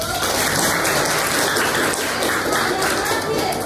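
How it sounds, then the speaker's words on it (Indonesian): A classroom group breaks into close, steady clapping that fills the whole stretch as dense, even applause, with voices faintly mixed in underneath. "Beri aplaus dulu."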